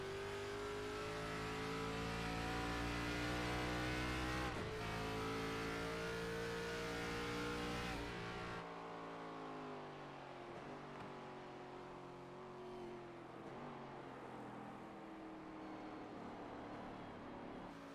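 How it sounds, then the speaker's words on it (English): Onboard race car engine in iRacing at Suzuka Circuit, a loud continuous roar with rising and falling revs and gear shifts, held steady near the camera without talk. "Let's ride on board with Withers."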